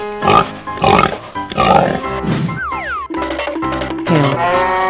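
A pig oinks and grunts in a video game of giant animal transformations, in several loud, evenly spaced bursts mixed with sliding boing effects and bright game jingles, with no voices.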